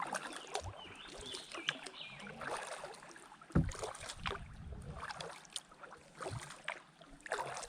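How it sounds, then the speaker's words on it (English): A kayak paddles across a quiet reservoir cove, soft water splashes and drips from the blades coming in an uneven rhythm, with faint birdsong and light outdoor ambience. "So let's paddle on out of here."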